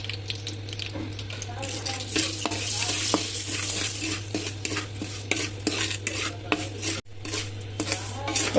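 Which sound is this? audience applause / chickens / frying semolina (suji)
frying semolina (suji)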